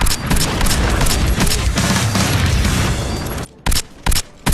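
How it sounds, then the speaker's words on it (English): Suppressed SPAS shotgun firing in Call of Duty: Black Ops, a dense loud stretch of gunfire and combat noise followed by a few sharp, separate shots. "The suppressed Spaz in BO1 sounded like something right out of a James Bond movie"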